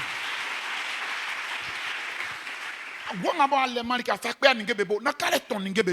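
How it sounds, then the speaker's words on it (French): A church congregation bursts into loud, steady applause acclaiming the Lord for about three seconds, then a man begins preaching over the fading claps. "Acclame puissamment le Seigneur"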